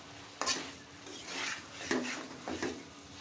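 Potato and cauliflower pieces with spices get stirred in a pan, with three or four distinct scraping strokes of a spoon over a faint sizzle, quiet and close, no talk.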